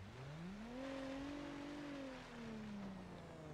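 A Lincoln Town Car in BeamNG Drive drives on after a crash with its radiator leaking. The engine drones steadily, its pitch rising and then slowly easing back down, with no voices.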